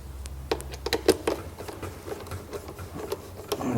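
Close, quiet metallic ticks and short clicks in an irregular rhythm as Torx T25 bolts holding a speaker in a 2014 BMW 4 Series F32 are unscrewed, with a low hum underneath.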